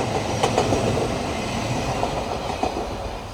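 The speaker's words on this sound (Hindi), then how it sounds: "अब ये वाली ट्रेन यहाँ से जा रही है" A train rolls past a railway level crossing in Japan, giving a steady close rumble with faint rhythmic wheel clatter over the rails throughout.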